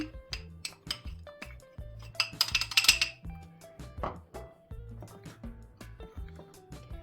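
Starch is mixed into flour in a bowl for a crispy chicken batter, producing repeated light clinks and taps of a utensil against the bowl in an uneven rhythm, with a brief burst of rattling midway, close up and alone.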